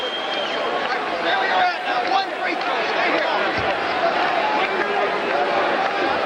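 Basketball arena crowd murmuring steadily throughout a 1985 college game between ISU and Bradley, a dense babble of many voices with faint scattered chatter, no single voice standing out.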